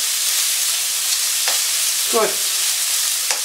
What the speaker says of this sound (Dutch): ik pak geen vork, ik pak een houten spatel